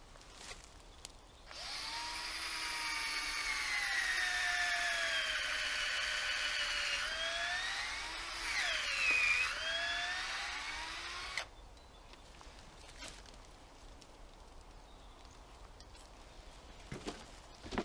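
A cordless drill bores into a birch tree trunk outdoors to tap it for sap, giving a steady high whine for about ten seconds that shifts in pitch partway through, then stops, leaving quiet woodland ambience with faint clicks.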